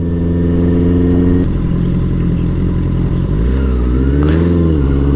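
A Honda CBR650R motorcycle hums steadily while being ridden, loud and close, its inline engine note dropping as the rider eases off and then rising again, with no voices.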